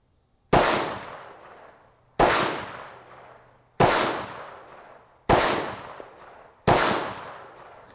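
Five sharp shots from a Smith & Wesson SD9VE pistol fired at a target, evenly spaced about a second and a half apart, each with a short decaying ring and no voices in between.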